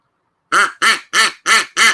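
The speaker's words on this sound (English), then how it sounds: "She was puffing in the wrong end of the duck call." A duck call is blown five times in a row, each burst a sharp, nasal quack with a quick, regular rhythm. The quacks are loud and close, start after a short silence, and nobody speaks.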